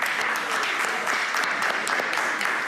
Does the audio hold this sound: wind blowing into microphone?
no